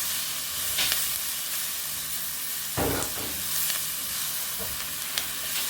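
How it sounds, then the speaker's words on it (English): Seasoning vegetables sizzle steadily in hot curry in a pan for coconut curry red snapper: garlic, pimento, onion, carrot and Irish potato. A few louder stirring scrapes break through the close, continuous frying hiss. "if you just saute that a little bit in the curry"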